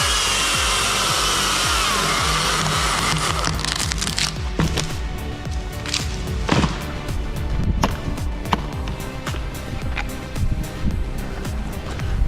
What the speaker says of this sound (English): The chainsaw roars to life, shattering the morning silence.